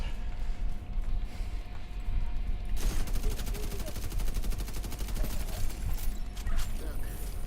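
A sniper turret fires in the video game Division 2. A steady burst of rapid, rattling shots starts a few seconds in over continuous background game noise, with some speech mixed in.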